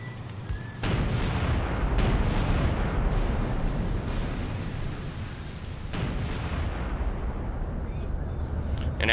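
Tank guns in the Graviteam Tactics combat game boom repeatedly, each heavy blast rolling into a long rumbling tail that blends with continuous battlefield noise, loud and dense throughout.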